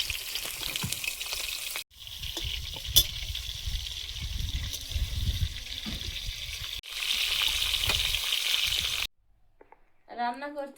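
Food sizzling as it fries in oil in a home kitchen, a steady hiss broken by short pauses, quieter and fairly close, with a voice speaking briefly at the end.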